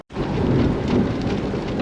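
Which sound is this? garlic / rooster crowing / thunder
thunder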